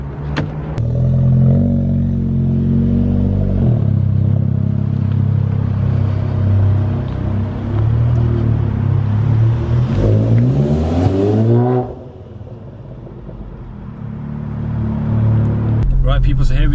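A modified 420 bhp Seat Leon Cupra engine revs loudly and close, holding a deep droning idle before rising in sharp climbing revs that cut off suddenly, then settling back to a lower rumble as it picks up again, with someone talking over it.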